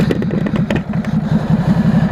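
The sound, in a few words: Ducati Super Sport S motorcycle engine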